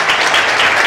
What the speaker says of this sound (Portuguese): vamos aplaudir a Jesus pela vida dela